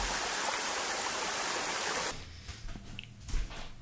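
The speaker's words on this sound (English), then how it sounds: "I love me a little waterfall, you know?" A small waterfall gives a steady rushing wash that cuts off partway through, leaving faint scattered noises.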